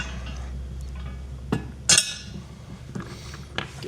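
Metal trailer hitch bolts and hardware clink and clatter in a few sharp, separate knocks while a B&W receiver is fitted to a 2025 Kia Telluride, with a low steady hum underneath.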